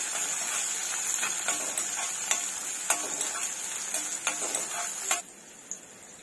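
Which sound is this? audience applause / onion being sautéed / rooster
onion being sautéed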